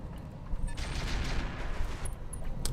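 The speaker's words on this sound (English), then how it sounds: "Bit of mortar play." Mortar fire in the video game Roguetech BattleTech: a dense, rumbling barrage of overlapping thuds and crackling blasts that swells and stays steady, with a few faint high chimes from the game near the end.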